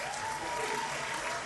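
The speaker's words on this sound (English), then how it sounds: "A round of applause to them." A live audience at a business and culture event gives a brief round of applause, steady and moderately loud across the moment with no voices on top.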